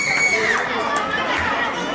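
Crowd of children and guests shouting and cheering at a quinceañera surprise dance, a dense, steady roar of excited voices filling the room with overlapping calls.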